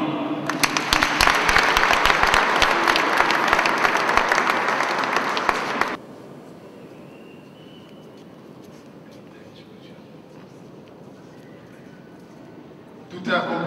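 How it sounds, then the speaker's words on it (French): Loud, dense applause from a crowd at a funeral tribute to King Kester Emeneya fills about six seconds, then cuts off into quieter room murmur and talk. "Nous pouvons l'applaudir."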